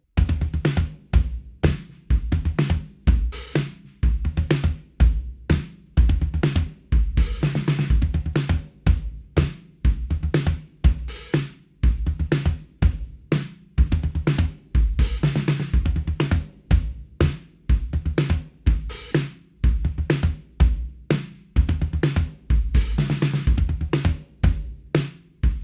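Drum kit playing the full verse groove of a song, steady driving rock pattern of punchy kick, snare and bright cymbal hits, loud and continuous with no voice over it.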